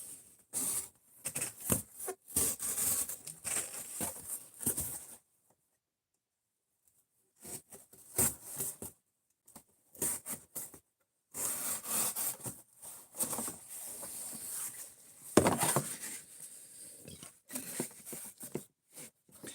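Cardboard being cut in short bursts of rough, scratchy rasping, separated by quiet gaps, close and fairly soft.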